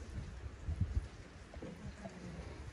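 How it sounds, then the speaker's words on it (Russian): Steady light rain falls along a walking trail on the Portuguese route of the Camino de Santiago, heard from under a small shelter as a soft, continuous patter with faint low rumbling. "Вот дождь идет."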